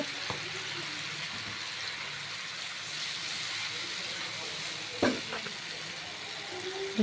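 Spices frying in a pan for a red lentil dal with red amaranth leaves, a steady hissing sizzle throughout with a few utensil clinks and brief speech over it.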